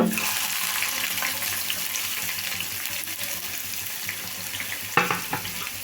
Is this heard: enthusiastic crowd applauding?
no